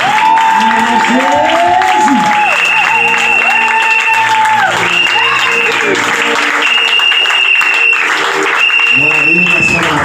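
A congregation at a church service bursts into sustained applause and cheering, loud and continuous, while a voice speaks over the crowd throughout.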